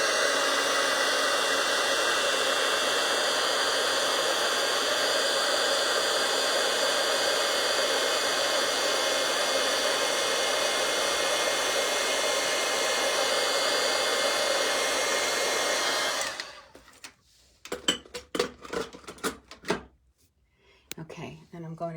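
A crafting heat tool blows hot air in a steady, loud, breathy roar for about sixteen seconds, then shuts off, leaving brief clicks and handling sounds.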